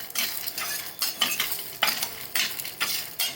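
Salted peanuts fry in a small splash of oil in a pan, a light sizzle broken by a quick rhythmic run of stirring scrapes, close and clear with no talking.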